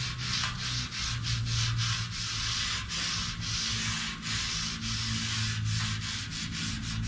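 Surface being sanded by hand before spot putty, a steady close rasping rub with regular back-and-forth strokes and a low background hum throughout.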